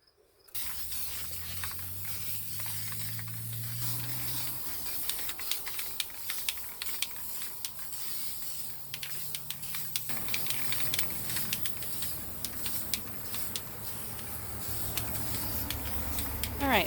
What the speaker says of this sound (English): I do have that kind of gold spray paint that I've used on a couple other projects